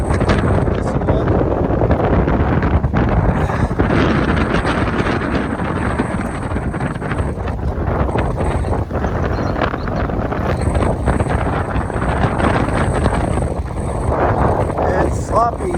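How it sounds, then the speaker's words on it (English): Aspen C-120 power catamaran running through two-foot chop in a harbor in about 30 knots of wind, loud constant wind buffeting and engine and hull roar close to the microphone, with voices talking underneath. "Aspen C-120 demo ride today. 2 foot of chop in the harbor here."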